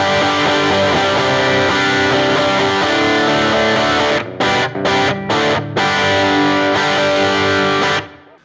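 Electric guitar on the bridge pickup through a Supro amp model, sustained driven chords ringing for several seconds and then a series of short choppy stabs with brief silences between, loud and close, no voices.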